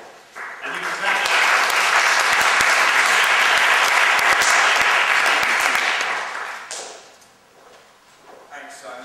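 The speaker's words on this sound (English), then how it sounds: "And you can clap." Audience applause at a design talk, rising quickly into a full steady round of clapping, then tapering off and dying away after a few seconds.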